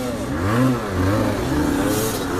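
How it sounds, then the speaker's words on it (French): A 125cc motorcycle engine revs hard up close on a ride with a friend, its pitch rising and falling in repeated surges, loud and alone. "La plus belle musique c'est le moteur à Jason."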